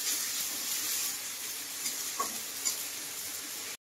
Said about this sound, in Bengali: তো মশলাটাকে আমি কষিয়ে নিয়েছি